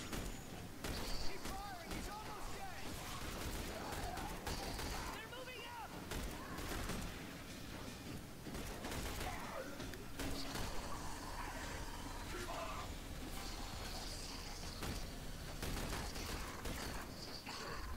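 Gunfire in the video game The Bureau: XCOM Declassified: dense, continuous volleys of shots and impacts throughout a chaotic firefight, with voices talking over the shooting.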